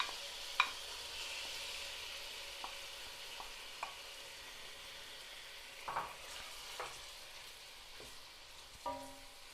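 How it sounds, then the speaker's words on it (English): Quiet, steady sizzle of hot olive oil in a pan, with a few soft clicks and light clatters scattered through. "I heated my olive oil so you can hear it actually."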